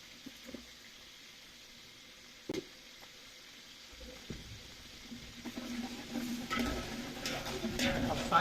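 Tomato, onion and ginger-garlic paste frying in a pan, a soft sizzle that builds steadily louder, with occasional knocks and stirring.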